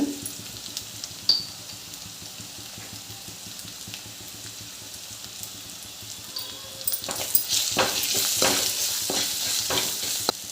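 Onions and green chillies frying in a pan for chicken biryani, a steady close sizzle with stirring scrapes that grows louder and busier in the second half.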